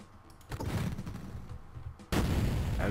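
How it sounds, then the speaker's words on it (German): Two heavy gunshot-like blasts from gun turrets in Duke Nukem 3D, one early and a louder one near the end, each booming over a noisy background. "Zwei Schüsse, zwei Geschütztürme."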